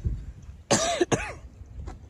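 Two harsh coughs in quick succession, close and loud, followed by quiet room noise.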